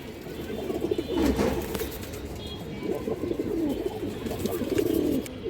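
Pigeons, among them a male calling, kept by a breeder of high-flyer and show lines: repeated low, throaty cooing phrases rise and fall over a busy rustling background, close by and without talk.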